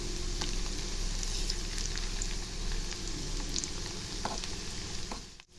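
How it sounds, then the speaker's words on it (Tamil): Potato and egg pieces frying in oil in a kadai over a low flame, a dense, continuous sizzle and crackle up close, with a few brief clinks near the end. "ஊற்றிட்டு இதை சிம்மில் வச்சு பொரித்து எடுத்துடலாங்க."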